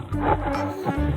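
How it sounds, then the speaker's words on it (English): A cartoon tiger roars in a short, loud, growling burst lasting about a second, close up and on its own. "Tiger,"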